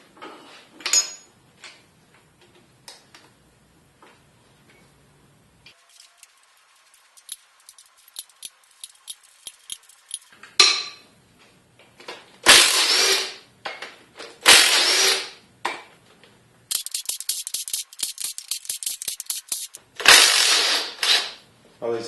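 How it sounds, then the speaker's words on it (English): Tools work loose the cylinder head bolts on a 5.7 Vortec 350 engine, heard as quiet metallic clicks that give way to loud, rapid bursts of ratcheting separated by short pauses. "Now we're going to proceed on to removing the head bolts."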